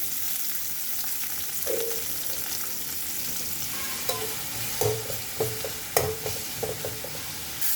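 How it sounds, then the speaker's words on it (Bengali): Sliced onions in two spoons of mustard oil in a wok sizzle steadily while a spatula stirs and scrapes, with several sharp metallic knocks near the end. "পেঁয়াজ দিলাম কড়াইতে, আর হলো 2 চামচ পরিমাণ সরিষা তেল দিলাম।"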